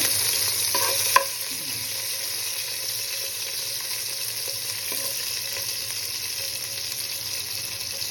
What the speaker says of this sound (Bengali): তেল দিলাম, দিয়ে তেল গরম হলে আমি শুকনো লঙ্কা, তেজপাতা